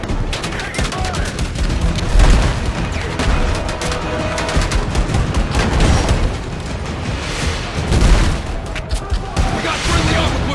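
Sustained gunfire and explosions in the Battlefield 6 campaign: dense bursts of rifle and machine-gun fire with heavy booms swelling around the middle and near the end, loud and continuous, with shouted combat voices mixed in.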